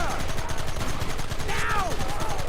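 Gunfire in the Western video game Red Dead Redemption during a shootout: repeated shots crackle at a steady pace under a continuous bed of game noise and shouted voices.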